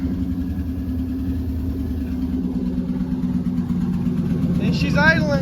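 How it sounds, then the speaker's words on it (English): A turbocharged LS-swapped K20 car engine idles with a low, steady rumble, fairly close, with a brief whistling or squealing sound rising near the end. "And she's idling."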